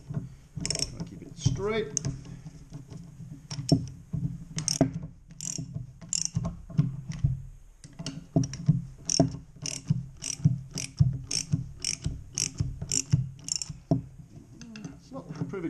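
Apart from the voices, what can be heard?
ratchet wrench turning while pulling a leaf blower crank bearing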